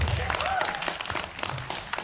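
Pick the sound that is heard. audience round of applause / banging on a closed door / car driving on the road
audience round of applause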